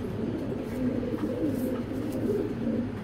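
A pair of racing pigeons at a loft coo close by in soft, low, repeated throaty murmurs that run continuously over light background noise.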